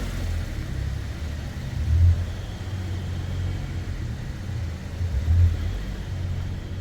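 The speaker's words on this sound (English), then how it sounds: "Commodore V6 engine is running." A Holden VF Commodore V6 engine idling, a steady low rumble close by with two slight swells in revs, running alone without talk.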